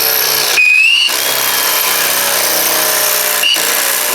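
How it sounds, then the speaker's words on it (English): A power drill spinning a larger bit into material, a steady loud whine with two brief dips in pitch, running continuously with no voices. "let's run another drill bit down there. We'll go to a bigger size"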